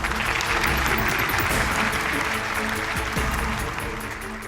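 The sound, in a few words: audience applause welcoming Omar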